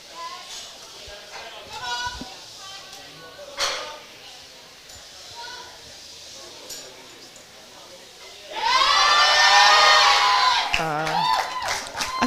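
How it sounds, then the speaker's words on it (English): A crowd at a women's powerlifting meet in the 69kg and 84kg classes cheers and shouts loudly for a 137.5 kg deadlift, a sudden roaring burst that rises over earlier commentary and murmur, then fades. "The crowd really got behind her for that one"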